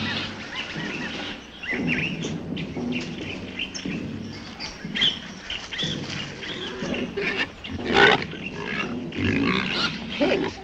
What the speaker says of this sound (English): Wild pigs. They can be mean.